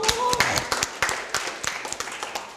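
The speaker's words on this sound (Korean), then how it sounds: "이분들을 위해서 박수 한번 해드립니다." A small audience at a leadership lecture claps in scattered, uneven bursts for two participants, close and fairly loud, with a voice briefly heard over it.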